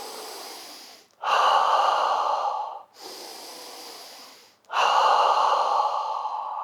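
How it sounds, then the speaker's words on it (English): Slow deep breathing, drawn in through the nose into the belly and released out through the mouth, two long full cycles of close, airy inhales and louder rushing exhales with brief pauses between. "We're going to be breathing deeply in through the nose, into the belly, and then out through the mouth"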